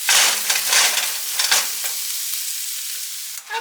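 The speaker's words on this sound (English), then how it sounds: "I'm gonna take 1 pound of sausage and add it to our pan" A pound of sausage browns in a pan with a loud, crackling sizzle that is strongest at first and then settles into a steadier hiss. No one speaks.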